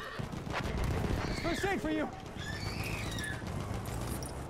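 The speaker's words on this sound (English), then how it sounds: "Get on the horse." A horse whinnies loudly in a World War I shooter game amid battlefield noise, a clear rising-falling neigh lasting about half a second, with hoof clatter and a brief spoken line in the mix.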